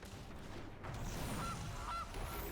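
Goose honks from a card in the MTG Arena digital card game, two short nasal calls over a steady low game-music bed, clear and close, no talking.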